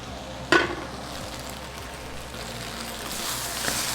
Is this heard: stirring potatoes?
yes